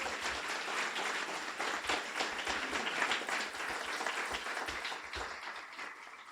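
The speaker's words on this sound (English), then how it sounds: "A warm round of applause to the raisers" Graduation audience at a guide dog school applauds puppy raisers, donors, staff and students, giving sustained, fairly distant clapping at an even level with a few heavier low thumps scattered through.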